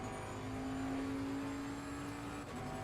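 Race car engine in Assetto Corsa Competizione at Zolder, Suzuka or Silverstone, a steady sustained drone at constant pitch, moderately quiet and alone without talk.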